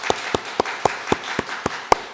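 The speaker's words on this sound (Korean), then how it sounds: "박수 한번 치세요." A church congregation at a Wednesday evening worship service claps in steady unison, about four sharp, evenly spaced claps per second, crisp and fairly close with no talking.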